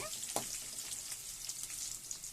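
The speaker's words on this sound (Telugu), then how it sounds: "ఆనియన్స్ బాగా ఫ్రై అవ్వాలండి. వేసుకొని బాగా కలిపేసుకోవాలి." Onions frying in hot oil with tempering seeds for a tomato and potato curry, a steady bright sizzle with a brief stir or clink near the start, continuous and close throughout.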